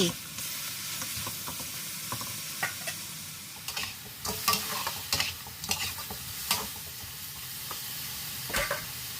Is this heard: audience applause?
no